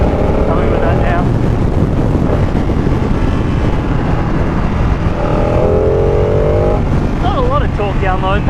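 Engine of a 2018 Ducati Panigale 959 Corse motorcycle revving, loud and close, with rising and falling pitch sweeps in short bursts over a constant roar of riding and wind noise.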